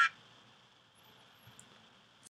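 A single short, bright duck quack sound effect, triggered from a computer keyboard, sounds at the start, followed by near silence with a few faint clicks.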